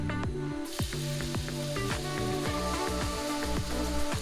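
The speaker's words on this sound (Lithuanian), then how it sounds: "Tada supilame blynų tešlą." Pancake batter sizzles in a hot pan lightly sprayed with oil, a continuous frying hiss with a regular stepped tonal pattern running underneath.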